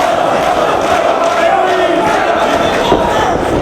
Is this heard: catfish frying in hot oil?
no